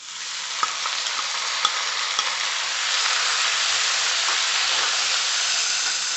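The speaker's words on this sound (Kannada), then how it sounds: "ಈಗ ಚೆನ್ನಾಗಿ ಫ್ರೈ ಮಾಡೋಣ ನಾವು. ನೋಡಿ ಇಷ್ಟು ಫ್ರೈ ಆಗಿದೆ. ಈಗ ನಾನು ಟೊಮೆಟೊ ಹಾಕ್ತೀನಿ." Tomatoes frying in a pan, a dense continuous hissing sizzle heard up close, with a few light scrape-and-tap stirring sounds early on, then the frying noise swelling slightly and holding steady.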